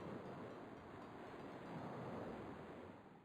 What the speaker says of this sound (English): I can hear the ocean.